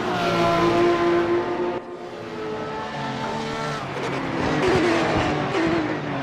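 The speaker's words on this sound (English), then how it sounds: "the car sounds are louder" Loud Porsche Carrera Cup race car engines at Laguna Seca roar and whine continuously, pitch shifting as they rev and pass, with a dense mechanical drone throughout.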